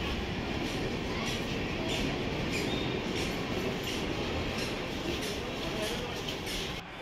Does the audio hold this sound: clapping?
no